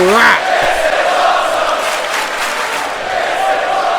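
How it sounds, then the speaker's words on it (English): Arena crowd roaring and cheering in the wrestling video game WWE 2K19, a loud sustained wash of voices swelling at the start and holding steady throughout, no commentary over it. "And this crowd is definitely impressed by the sudden reflexes of Kira Braden"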